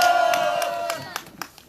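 A crowd at a candlelight rally against a THAAD missile deployment in Seongju rises with a loud shout and cheer, the sustained roar fading over under two seconds, with a few scattered claps near the end.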